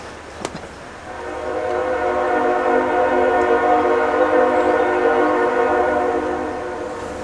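CSX Santa Train on the Clinchfield line, led by the Clinchfield Heritage Unit, rumbles steadily past after a sharp opening click, its rolling mass building and holding loud with layered tonal horn-like harmonics throughout.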